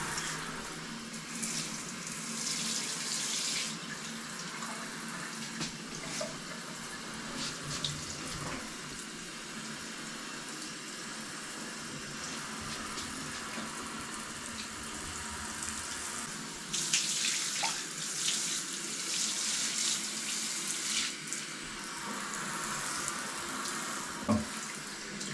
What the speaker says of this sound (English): So I'm going to go ahead and use my sprayer.